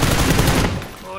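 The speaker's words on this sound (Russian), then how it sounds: "О, слышишь, стреляет." Rapid automatic gunfire in PUBG (Playerunknown's Battlegrounds), a loud burst of dense repeated shots that fades over about a second into quieter ringing.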